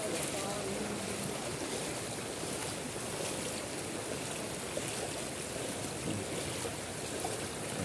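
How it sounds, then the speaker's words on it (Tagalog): Steady sloshing and churning of deep flood water in a Pasig street, continuous and close throughout with no clear speech, as someone struggles to wade through it under ongoing rain. "Hirap maglakad sa baha."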